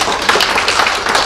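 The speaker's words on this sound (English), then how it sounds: "Another round of applause for him." An audience at a project launch event applauds in a dense, loud, continuous wash of clapping, with many hands close together.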